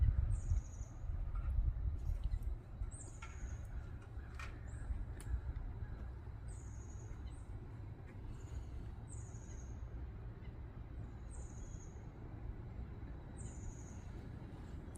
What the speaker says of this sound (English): Hearing the birds.